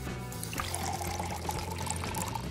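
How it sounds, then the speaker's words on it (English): Liquid gelatin and sugar syrup mixture pouring into whipped egg foam, a steady soft trickling stream lasting a couple of seconds, close and moderately quiet with low background hum. "Pour the liquid mixture into the egg foam"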